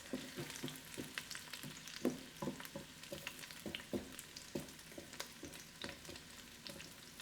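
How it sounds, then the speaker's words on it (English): Garlic fries in hot oil at a soft, steady sizzle, with frequent light clicks and scrapes of a utensil stirring it around the pan, close and fairly quiet without any voices. "You do not want to burn any of this, especially the garlic. So put it down into the oil."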